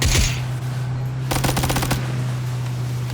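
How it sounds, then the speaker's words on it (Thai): Gunfire in the video game PUBG arrives as a quick automatic burst of several sharp shots over a constant low engine-like hum, loud and close, with no talking. "ยิงนิดเดียวพออย่ายิงเยอะ"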